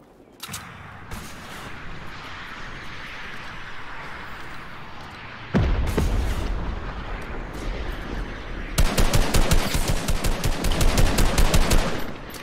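Gunfire during a video game tournament match, starting with scattered shots and building to loud, dense bursts of rapid automatic fire after a heavy blast, with a rocket launcher in play.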